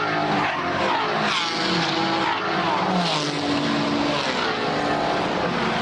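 Monochrome GT4 Australia race cars battling for the lead at a GT Festival at The Bend circuit, a loud, continuous roar of several engines at high revs with shifting pitch as the cars pass close by, with no talk.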